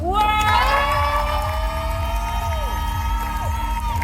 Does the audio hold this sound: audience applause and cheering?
yes